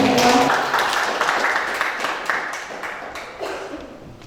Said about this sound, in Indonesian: Mungkin bisa Pak tepuk tangannya untuk Bapak Ikun Sri Kuncoro.